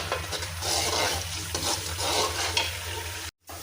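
Onions browning in a pan for a white chickpea dish, a steady crackling sizzle with bursts of stirring, close and fairly loud, cut by a brief silent gap near the end.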